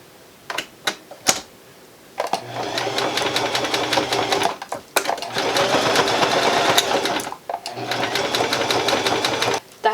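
A sewing machine stitches fabric in two long runs of rapid, steady mechanical chatter with a low motor hum, separated by brief pauses and sharp clicks, close and fairly loud.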